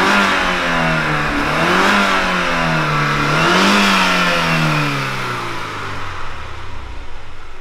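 The engine from a Mercedes CL 500 revs loudly and close by in two rising and falling swells, then settles back toward a steady idle.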